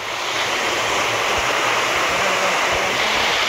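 Water rushing down the slopes of Girnar mountain, a loud, steady roar of flowing water close by, continuous throughout with no voices.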